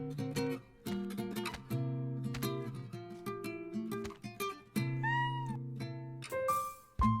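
A cartoonish cat meows repeatedly in the video game Love and Deepspace, a series of clear, tonal mews and chirps in quick succession, close and distinct, with a sharper cry near the end.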